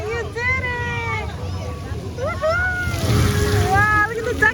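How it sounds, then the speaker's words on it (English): Water squirting from duck fountains and splashing in a splash zone at the Peppa Pig theme park, a steady wash of spray under excited voices and cheering close by. "look at the duckies squirting water! Wow, wow, wow, we're in a splash zone."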